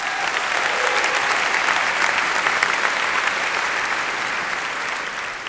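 Loud, sustained applause from a large audience at Long Beach, California's State of the City address, a dense steady wash of clapping that holds throughout and eases slightly at the end, with no voices over it.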